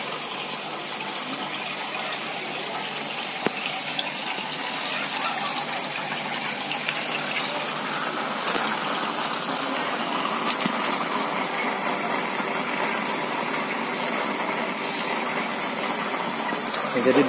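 Water runs steadily through the pipes of a hydroponic NFT growing system, a continuous broadband gushing and trickling flow with a faint pump hum beneath, held at an even level throughout.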